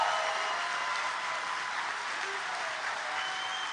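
Steady applause from an audience at a fire training center recruit class graduation, honoring probationary firefighters; a dense, even clapping wash at moderate level throughout, with no talk.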